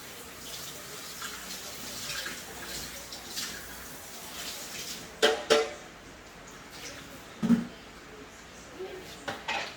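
Tap water runs steadily over a container being rinsed in a kitchen sink, a continuous close splashing rush punctuated by a few louder clunks and knocks of the container against the basin.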